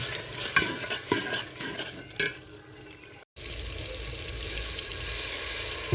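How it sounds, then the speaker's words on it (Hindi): Whole red chillies, turmeric and spices fry and get stirred in an oil-filled pan for potato and pea curry, with scraping stirs over a steady sizzle that swells louder in the second half, no voices. "लाल मिर्च और मसाले को अच्छी तरीके से भून लेंगे।"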